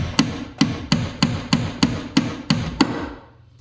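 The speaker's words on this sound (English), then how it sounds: "take your punch, something like this, or even a Phillips head screwdriver, and you're gonna drive the rivet out from the opposite end" A punch hammered against an aluminum rivet on an aluminum jon boat, nine sharp metallic blows at a steady, even rhythm, close and loud, ringing briefly after the last strike.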